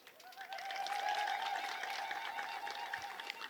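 A church congregation applauds during an Ethiopian Orthodox sermon, with steady, dense clapping from many hands lasting a few seconds at moderate distance.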